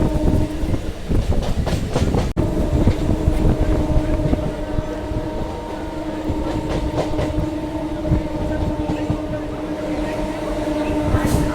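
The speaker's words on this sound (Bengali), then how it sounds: "আমাদের ট্রেনটা এখন ঢুকছে হচ্ছে লিলুয়া স্টেশন" A Katwa–Howrah galloping local train rolls into Liluah station with a steady rumble, wheel clatter and a continuous low hum, one sharp click partway through, loud and close throughout.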